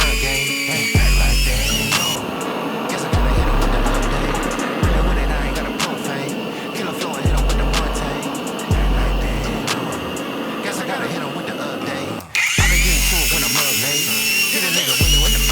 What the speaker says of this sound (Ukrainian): Болгарка не відчуває цієї щітки, і щітка розрахована на 6500 обертів